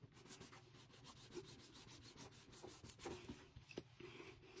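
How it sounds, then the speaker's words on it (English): A bone folder rubbed firmly along a glued paper crease in a handmade card journal, a soft, close, repeated scraping swish in short strokes with no talk. "you're just going to take your bone folder right here into your crease, and you're just going to kind of go like this as you close it"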